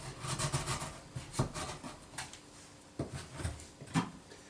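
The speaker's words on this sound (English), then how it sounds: "The other principle with chisels is to take small shavings, not try and do the whole lot at once." A sharp chisel pares small shavings from wood, producing quiet scraping strokes in short irregular bursts with a few sharper scrapes, close by and without talk.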